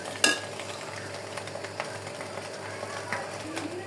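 Eggs and pasta spices frying in a pan, a low steady sizzle with an opening clink and light scraping stirs, fairly quiet, with a voice talking over it.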